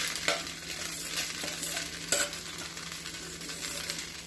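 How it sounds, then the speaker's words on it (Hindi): A spoon stirs pasta through a prepared sauce mixture in a hot pan, with a steady sizzle beneath a few soft scraping strokes and one sharper clank, close and continuous with no voices. "And give it a nice stir"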